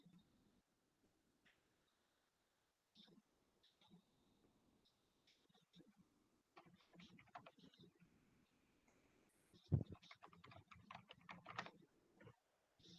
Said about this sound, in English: Just I am typing for understanding.